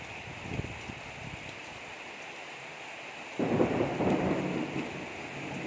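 Steady heavy rain pouring down in daylight, with a low thunder rumble swelling partway through and the downpour growing louder and broader toward the end, no voices.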